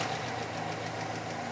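Pickup truck V8 fitted with an Edelbrock E-Force supercharger idles steadily up close, a continuous low engine drone with a slightly lumpy, knocking pulse and faint accessory whine above it.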